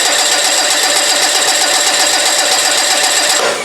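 A Volkswagen TDI diesel engine cranks over on the starter, giving a loud, steady, continuous churning drone that holds evenly for several seconds before easing off at the very end.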